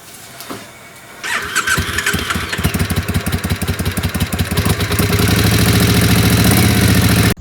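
A 2002 Triumph Bonneville America motorcycle cranks with a starter whine, catches at about one second, and settles into a loud, close, rapidly pulsing idle that steadies and thickens toward the end.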